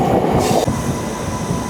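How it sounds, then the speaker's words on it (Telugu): A MEMU commuter train out of Secunderabad runs at high speed, a steady loud roar of wheels and wagons heard from onboard, continuous and alone without voices. "ట్రైన్ అయితే ప్రెజెంట్ హై స్పీడ్కి అయితే వచ్చింది."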